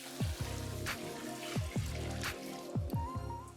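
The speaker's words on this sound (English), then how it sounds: "Add cold water, wait 40 minutes." Cold water is poured into a large bowl of rice and bulgur, making gurgling, splashing pulses with bubbly, dripping bursts that come close together.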